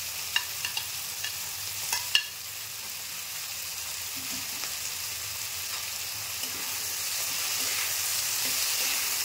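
Chilli soybean fries in a pan with a soft, steady sizzle close by, a few sharp clicks or taps near the start, then a continuous quiet hiss that swells slightly toward the end.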